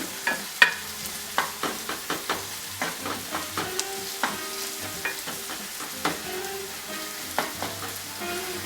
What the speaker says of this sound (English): And the onion is starting to fry a little bit